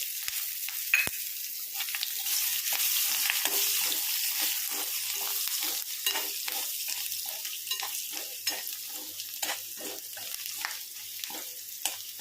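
Steady, close sizzling of garlic and curry leaves frying in hot oil, with occasional stirring scrapes and crackles over the continuous hiss.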